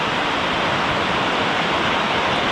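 Creek beside a lodge in Aspen, Colorado, a continuous broadband rush of flowing water, steady and fairly close with no talk over it.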